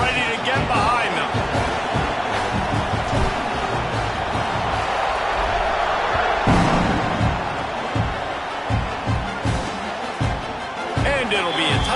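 Dense, roaring football stadium crowd at a college game between Oklahoma and App State, ready for the kickoff, with a steady wash of cheering and noise under an announcer talking throughout.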